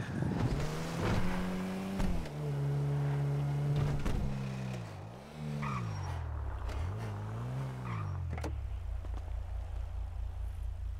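Engine of a speeding taxi car in a video game, loud and continuous, revving up and down with rising and falling pitch sweeps and gear shifts throughout, with brief squeals.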